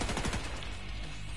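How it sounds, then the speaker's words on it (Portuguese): Rapid bursts of gunfire in the video game The Division 2 crackle at the start, then fade into a dense, noisy wash with no voices. "deu uns tiros na minha cara aqui"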